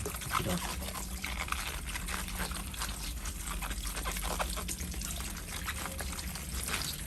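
Tap water runs steadily over pandan leaves as they are rinsed by hand, a continuous close splashing trickle with faint handling noises throughout.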